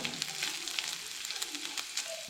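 A teaspoon of whole cumin seeds fries in a pan with a faint, steady crackling sizzle and light popping throughout.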